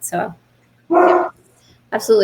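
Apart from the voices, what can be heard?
dogs barking in the background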